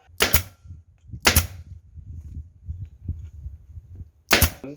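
A staple gun fastens shingle roof sheets on a self-built house: three sharp, loud shots spaced irregularly, with a low murmur of handling and movement between them.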